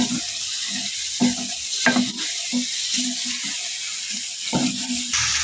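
Green peas sizzle and crackle in a pan while a spoon stirs them in steady scrapes and knocks, the frying hiss constant and close throughout.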